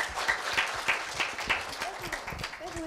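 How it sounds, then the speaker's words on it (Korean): An audience at a middle school speaking festival applauds with moderately loud, steady clapping that is brief and mixed with some crowd noise. "힘찬 박수 부탁드립니다."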